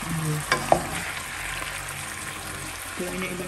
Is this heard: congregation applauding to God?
no